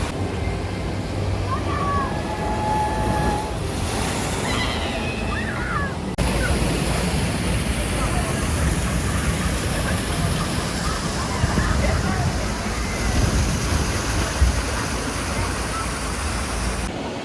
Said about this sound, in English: Well, Jungle Adventure Rapids is great.